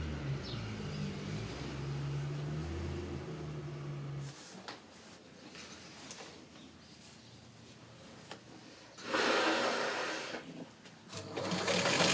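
A sewing machine stitching, its motor giving a steady, humming whine up close for about four seconds, then quieter mechanical sounds with a later louder burst of noise.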